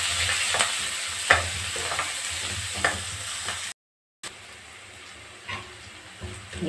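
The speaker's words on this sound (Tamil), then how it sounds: "கொஞ்சம் கருவேப்பிலை நல்லா ஃப்ரையா இருக்கும்" Curry leaves frying in a pan for a cauliflower masala give off a steady close hiss and sizzle, with scraping stirs and soft clinks throughout and a brief silent break midway.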